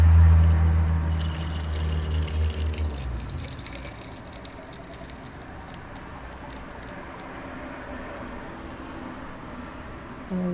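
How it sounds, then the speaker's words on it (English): Sunflower oil poured into a jar of resin: a low gurgling pour for the first few seconds, then quiet trickling and faint dripping. "I'm going to take my sunflower oil and I'm going to add it to the resin."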